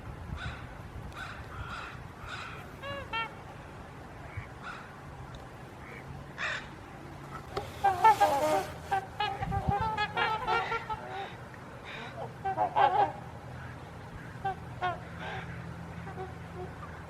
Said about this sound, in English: Ravens out this morning checking the beach out.